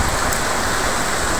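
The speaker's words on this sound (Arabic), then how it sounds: "أمطار الخير، أمطار الرحمة، أمطار البركة قوية جدا" Heavy rain pours down in Béjaïa, Algeria: a dense, continuous, loud hiss of drops hitting surfaces close by, with no voices over it.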